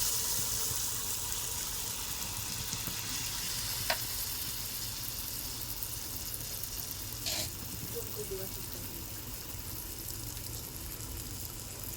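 Fritters frying in oil, a steady hissing sizzle throughout at moderate level, with a couple of faint clicks of a utensil.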